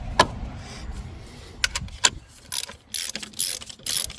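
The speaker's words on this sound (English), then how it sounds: "even the ratchets are from Lidl, and they work just great" A Lidl ratchet wrench turns during car repair work on a 2012 Seat Altea, giving sharp clicks followed by bursts of rapid ratcheting, close and loud, with no talking.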